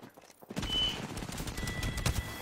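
Rapid video game gunfire crackles in a dense, continuous volley of overlapping shots, loud and close throughout with a few sharper bursts near the end.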